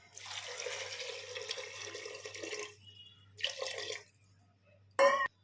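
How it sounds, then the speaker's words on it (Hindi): Water pours steadily into a pressure cooker holding vegetables for a potato, chickpea and soybean curry, splashing for a few seconds, then a short second pour and a sharp metallic clink. "तो पानी ऐड करेंगे"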